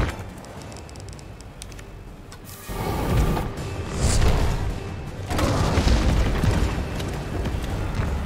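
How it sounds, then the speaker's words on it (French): Incendiary grenade going off in the Resident Evil 3 Remake on hard difficulty: a sudden loud boom followed by a roaring, crackling burst of fire that swells again midway, close and heavy. "Grenade incendiaire"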